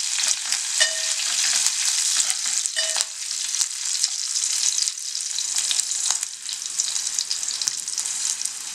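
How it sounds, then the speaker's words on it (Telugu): Green chillies and curry leaves sizzle in hot oil as a tempering is stirred, a loud continuous crackling fry with occasional scraping stir sounds. "నేను పోపు అంతా ఒకసారి బాగా కలిపేసుకున్నాను"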